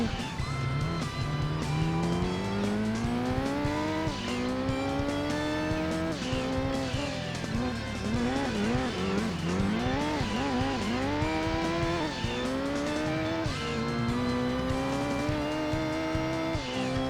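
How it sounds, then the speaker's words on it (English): A Toyota Celica ST165 rally car racing in Gran Turismo 2 on a rally event: continuous loud engine note climbing and dropping through repeated gear changes, with tire squeal in places and no talking. "I'm racing with Toyota Celica ST165."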